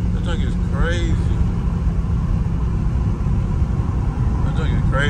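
A Dodge Scat Pack engine pulling in low gear gives a loud, sustained, deep exhaust rumble throughout, with a voice talking over it.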